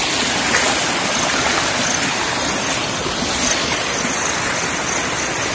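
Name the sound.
water flowing through a filled small drain in forest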